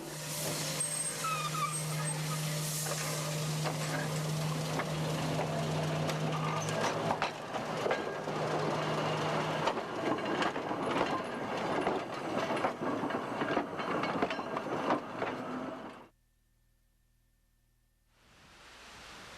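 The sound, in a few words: Indiana Railroad interurban railcar running on track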